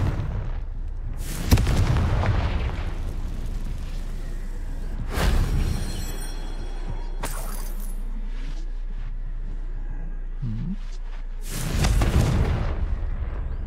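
Repeated Confringo fire-blast spell explosions in Hogwarts Legacy, several loud booming bursts spaced a few seconds apart over a rumbling game background with no talking.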